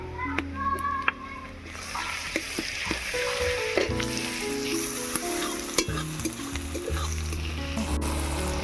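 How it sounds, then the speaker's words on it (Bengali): Garlic paste frying in a pan with browned onions, a steady close sizzle with scraping stirs and occasional spoon clinks, continuous throughout. "পেঁয়াজটা লাল লাল হয়ে এসছে, এবার আমি দিয়ে দিচ্ছি রসুন বাটা।"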